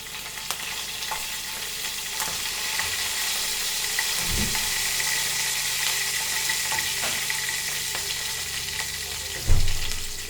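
Cumin seeds, mustard seeds and curry leaves sizzle in hot oil in a pan, a loud continuous close frying hiss with small pops and a couple of low thuds as ingredients go in.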